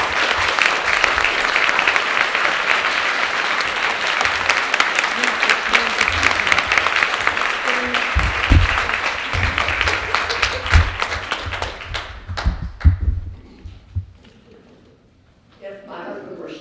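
An audience applauds to welcome keynote speaker Katherine Paterson at a Madeleine L'Engle conference, sustained dense clapping filling the hall for about twelve seconds before dying away into quiet room noise.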